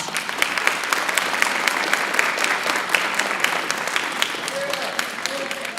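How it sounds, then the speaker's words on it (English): Sustained applause from a graduation ceremony audience, many hands clapping densely and steadily at a moderate distance, filling the hall for several seconds with a faint whistle or cheer near the end. "will you please give your parents, family members, educators, and others who've helped you a round of applause."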